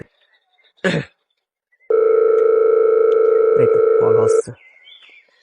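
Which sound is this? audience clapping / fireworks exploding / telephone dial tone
telephone dial tone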